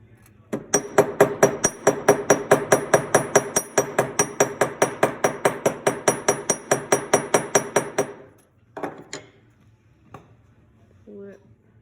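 Steady, rapid hammer taps on a wire to fix a loose jewellery hinge, about thirty sharp metallic strikes in an even rhythm, then a few scattered taps after a brief pause.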